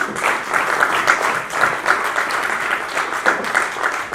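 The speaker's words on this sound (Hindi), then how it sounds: "और आप सबसे रिक्वेस्ट है कि एक बार से तालियां होनी चाहिए।" Audience at an award ceremony in Jaipur breaking into sustained, dense applause, clapping steadily at fairly loud level with only faint voices beneath.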